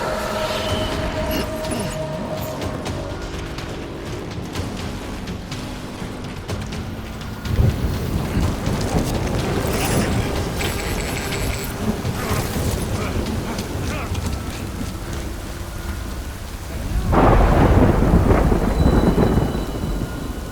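Rain and rolling thunder from a thunderstorm in the video game Death Stranding, a steady downpour with loud thunder swells around the middle and again near the end, with a voice briefly speaking over it.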